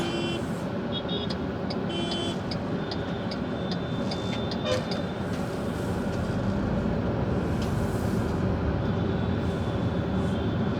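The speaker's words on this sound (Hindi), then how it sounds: "पीछे एक आदमी हॉर्न कर रहा है" Traffic noise fills the scene with a steady engine drone around an MG Astor slowing for congestion, and short horn toots sound intermittently from behind, some brief and some slightly longer.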